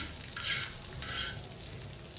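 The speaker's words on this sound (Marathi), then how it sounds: "राहिलेल्या तुकड्या अशा फ्राय करून घ्यायच्या" Pieces of karli fish fry in oil on a tawa, Malvani style, giving a steady low crackle that swells into two loud, bright sizzling bursts a moment apart, then settles back to a quieter hiss.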